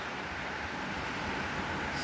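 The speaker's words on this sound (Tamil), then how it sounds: "செம மழை பெஞ்சுக்கிட்டு இருக்கு நண்பர்களே." Heavy morning rain pours down in a steady, dense broadband hiss, constant and unbroken from start to finish with no voices.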